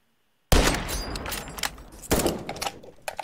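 Assault rifle gunfire in the 1v1.LOL video game: sharp bursts of rapid shots begin abruptly after brief silence, followed by a second burst and scattered clicks, fairly close and alone without talk.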